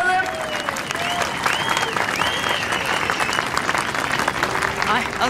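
Crowd applause at an outdoor summer-evening dance marathon event, steady clapping with tonal sounds and some voices or music layered over it.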